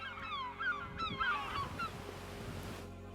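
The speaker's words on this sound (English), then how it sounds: "the seagulls searching for food" Several seagulls cry out in quick squawking calls, fairly close, over a low steady background hum, on a beach in Oman.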